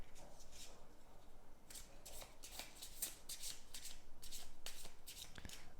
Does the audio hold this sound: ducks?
no